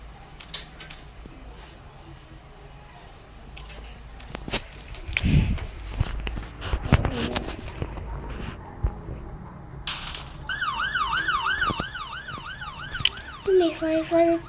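A police siren wails in the Roblox video game, its rising and falling electronic tone starting partway through after footsteps and background game noise, fairly loud near the end.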